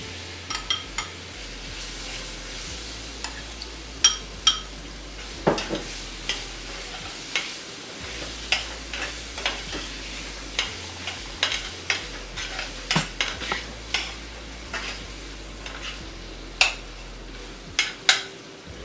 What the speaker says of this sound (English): So now we add the mango to it.